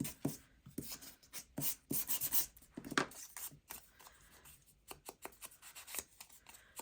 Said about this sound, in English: Let's give it a little sand